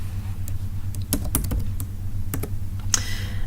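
Someone types a new username on a computer keyboard in a short run of crisp, close key clicks with uneven rhythm over a low steady hum.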